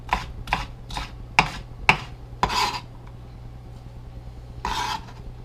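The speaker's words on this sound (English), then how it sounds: "The bell pepper, I like to just kind of cut these into slivers." Knife slicing a bell pepper into thin slivers on a cutting board, a run of about six crisp, separate cuts at an uneven pace in the first three seconds, then a short pause and one last cut.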